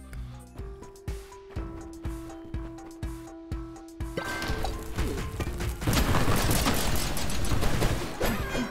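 Rapid bursts of loud synthetic explosions in the video game UnderMine, first in a rhythmic series of punchy booms, then building into a dense, continuous crackling roar.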